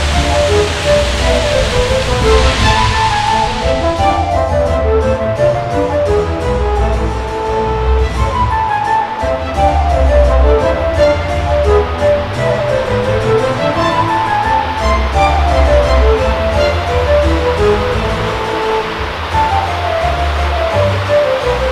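Water from a large palace fountain at Schönbrunn Palace in Vienna splashes in a steady, full rush of broadband noise, close and loud for the whole stretch, with no voices over it.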